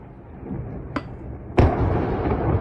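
A distant blast from an incoming strike in the Donetsk region near Avdiivka, heard as a brief crack followed by a louder booming thud that rumbles on through the low background.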